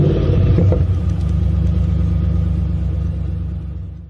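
A 1987 Chevy Suburban R20 with a 454 big-block V8, freshly carb-swapped and untimed, idles while warming up, a steady low rumble close by, with a brief louder swell near the start and no talking.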